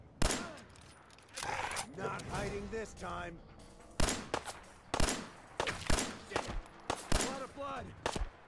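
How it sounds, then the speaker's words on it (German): Gunfire in the video game Fallout 4, a series of sharp loud shots in uneven bursts, several crowded together, heard between and under people talking. "Hier schießt einer."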